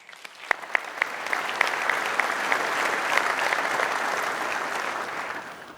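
An audience at a conference opening ceremony breaks into applause, beginning with a few separate sharp claps that quickly swell into sustained, full clapping from a large hall crowd.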